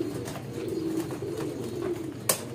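A racing pigeon gives low, soft, repeated coos close by, in a steady rolling rhythm with a sharp click near the end and no talking.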